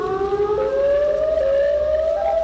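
Siren Head, a creature in a horror video game, lets out a loud sustained wail that slowly rises in pitch like a civil defense siren, steady and continuous throughout.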